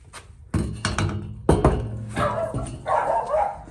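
Several dogs barking around a home's front porch, a few loud close barks and yips in quick bursts, followed by softer whimpering noises.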